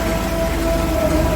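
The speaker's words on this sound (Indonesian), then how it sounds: "hujannya cukup lebat ini" Heavy rain pours down in a dense, unbroken wash of noise, steady and fairly loud, with a faint tone running through it.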